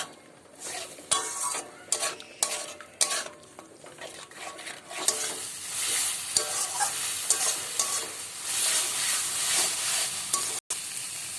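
Chicken giblets, stomach and liver with turmeric, salt and ground chili being stir-fried in a pan, a close, steady sizzle broken by repeated scraping and clinking strokes of a spatula, the frying growing louder and denser partway through.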